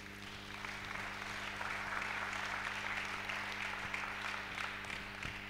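A church congregation applauding, a steady wash of clapping at moderate distance that stays even from start to finish.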